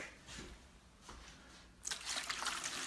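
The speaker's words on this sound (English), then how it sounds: "you want to coat the pan with at least a ½ inch to 1 inch of water." Water pours into a cooking pan for an Italian-style artichoke dish, a soft splashing rush that starts partway through and continues to the end, close and moderately loud.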